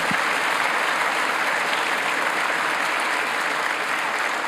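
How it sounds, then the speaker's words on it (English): A large audience at an October 7 talk breaks into steady, sustained applause, dense clapping that fills the whole stretch at an even, loud level. "can we have a big round of applause for Amanda?"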